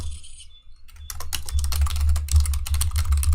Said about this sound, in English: I tried to have this most silent keyboard of all the keyboards I have.